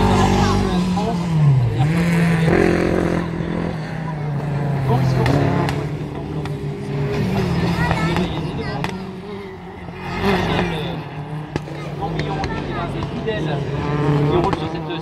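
A rallycross car with a 2.5-litre Rock engine races on track, its engine note rising and falling through gear changes amid other cars, heard under continuous commentary.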